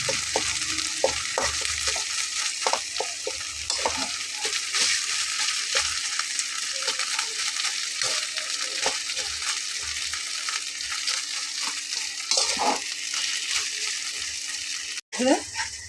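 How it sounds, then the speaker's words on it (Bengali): Boiled taro flower sizzles and fries in a wok while a spatula stirs it, giving steady frying hiss with frequent scraping clicks throughout, close and continuous. "খুব ভালোভাবে খুন্তি দিয়ে এটাকে মিক্স করব।"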